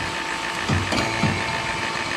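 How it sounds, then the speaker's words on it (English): A vacuum pump running on a reach-in cooler refrigeration system as the high-side hose is opened, producing a steady loud mechanical drone with two brief surges in its tone as it starts pulling air. "when you open each side, the vacuum pump should change sounds a little bit"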